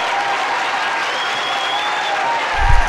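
A wrestling crowd at Pompey Hall applauding, a steady wash of clapping sustained throughout with a low thump swelling near the end.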